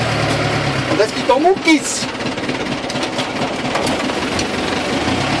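A Steyr 380 tractor engine runs steadily with a rough, rumbling idle-like chug throughout, close and loud, while people talk over it.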